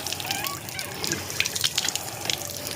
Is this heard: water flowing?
yes